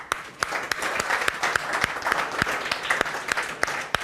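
Students in a classroom clap together, a steady burst of applause with sharp irregular hand claps spread across the room, fairly close and without any talking.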